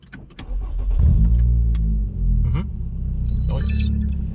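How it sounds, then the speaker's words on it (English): A high-mileage Nissan Altima engine cranks and starts at close range, with starter clicks giving way to a deep, steady idle rumble, and a voice speaking briefly over it. "Right now we're gonna start the car together."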